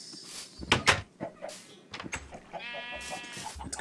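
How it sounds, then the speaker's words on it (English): Sheep bleat in the Minecraft video game, several short nasal calls mixed with clicks and other game sounds, fairly faint. "Let's go see if there are any wild sheep."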